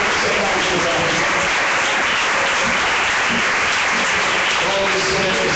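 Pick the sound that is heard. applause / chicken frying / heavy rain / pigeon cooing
applause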